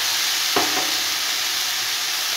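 Tomato and potato pieces sizzle as they sauté in a pan for a shrimp and cabbage dish, a steady close hiss with one brief stirring scrape near the start.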